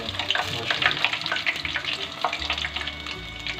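Pieces of KFC-style crispy chicken deep fry in hot oil, giving a close, steady crackling sizzle with bursts of popping bubbles and a low rumble from the burner, with no voices.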